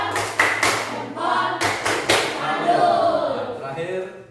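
A classroom group claps in a short rhythmic patterned applause, several sharp hand claps in quick bursts mixed with children's and teachers' voices talking over them.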